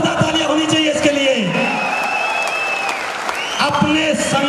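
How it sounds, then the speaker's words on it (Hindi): Loud applause rises from an audience at a network marketing motivational event, broad clapping mixed with tonal whoops and sustained cheering sounds that keep the energy high from start to finish. "जोरदार तालियां होनी चाहिए इसके लिए।"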